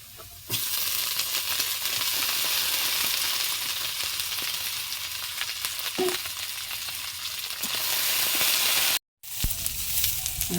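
Taro leaves hit a hot frying pan with a strong, close sizzle that swells and settles, punctuated by stirring clicks and a brief dropout before the frying resumes.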